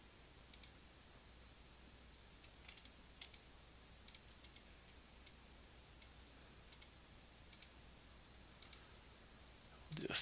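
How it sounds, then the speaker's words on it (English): Sharp, quiet mouse clicks from right-clicking arrive one or two at a time at irregular intervals over a steady low hum, with no talking. "I'm hitting the right-click mouse button"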